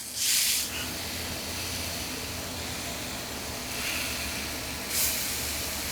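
Tri-tip being seared on a Camp Chef Woodwind Pro after smoking gives a steady, close hiss, and two louder bursts of sizzle cut in near the start and the end.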